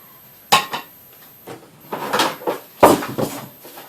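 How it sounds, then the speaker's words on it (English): Items are knocked off a table while crafting a bird bath from thrift store pieces, giving several sharp clattering knocks and thuds, some close and loud, scattered over a few seconds with no talk. "As I knock everything off my table."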